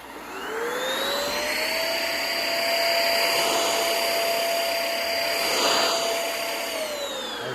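A cordless vacuum cleaner fitted with a bristle head runs at high speed, its motor whine climbing as it starts, holding steady and close, then winding down at the end.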